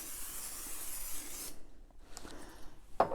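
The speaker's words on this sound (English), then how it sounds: "our next step is to do one more light spray of oil" A steady hiss of aerosol cooking oil sprayed onto potatoes runs for about a second and a half, then stops, followed by quiet with a light clatter near the end.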